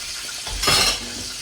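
Soft sizzling of pancetta frying crisp in a pan over low heat, with a brief stirring scrape in the middle.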